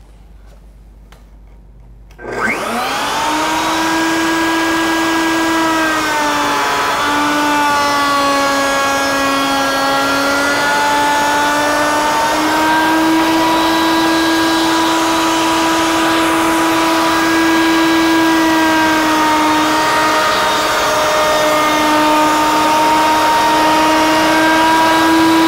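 A woodworking router starts up and cuts wood for Greene & Greene style joinery, a sudden loud motor whine that rises in pitch and then holds as a strong, steady, close tone.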